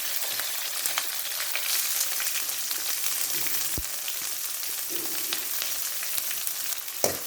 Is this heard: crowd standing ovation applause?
no